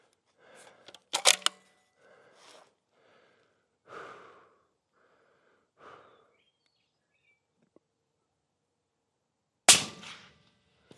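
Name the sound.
rifle shot fired from a support bag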